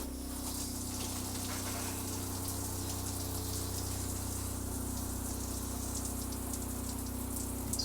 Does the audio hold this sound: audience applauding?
no